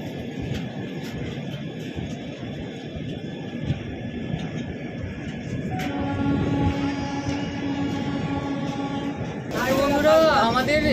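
The Sealdah–Jalpaiguri Road Humsafar Express running on its commercial run, a steady rumbling rail roar that grows louder toward the end, with a voice talking over it.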